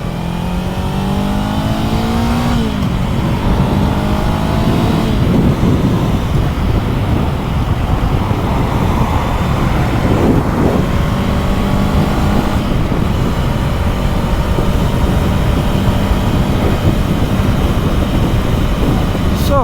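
A 2024 Honda CB500 Hornet motorcycle rides on the highway, its engine droning loudly and continuously. Rising and falling pitch sweeps mark gear changes and revving, all under a steady roar of wind.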